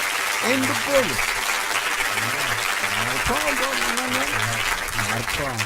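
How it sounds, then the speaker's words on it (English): A hand clap applause effect is played on a radio show, steady dense clapping running beneath a talking voice. "we definitely now cue up the hand claps"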